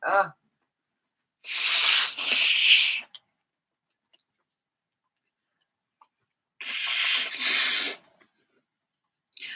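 Two loud, breathy bursts of noise a few seconds apart, each like a forceful sneeze, close to the listener, with near silence between them.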